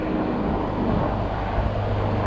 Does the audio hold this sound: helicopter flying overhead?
yes